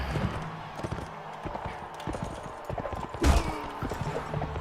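Horse hooves clattering in a Mount and Blade: Warband tournament, a steady clip-clop of galloping close by over busy game noise, with a louder thump near the end.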